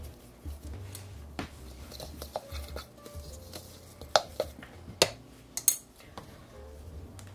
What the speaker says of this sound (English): So I'm just gonna zhuzh that around with my fork